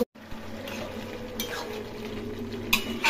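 A spoon stirs pumpkin and potato curry with a little shrimp in a pan, giving soft scraping and light sizzling with a couple of sharper clinks against the metal.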